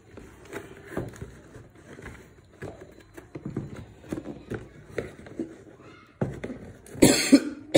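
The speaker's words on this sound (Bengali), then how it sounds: "কাশির প্রবলেম রয়েছে" A person coughs several times in short bursts between stretches of talk, the last cough louder and harsher near the end.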